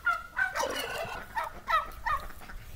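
Chickens clucking and squawking in a farm pen while a dog chases them, several loud agitated bursts close by in an uneven rhythm.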